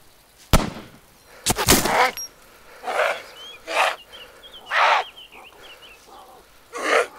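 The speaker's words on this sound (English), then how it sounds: "Let's see if I can shoot him through the boards." Gunshots in the video game DayZ are fired at a target behind boards: two sharp loud cracks followed by a series of duller, evenly spaced bursts and faint high chirps.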